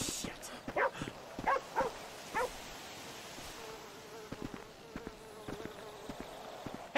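A dog barking in the video game GTA V, several sharp barks in short bursts over an outdoor game ambience with a buzzing insect-like hum and steady background noise.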